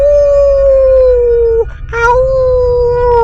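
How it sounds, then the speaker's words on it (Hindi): A cartoon dog howls in a long, sustained wail that breaks briefly and then resumes, loud and close, with no talking. "तभी घर के बाहर कुत्ते भौंकने लगते हैं।"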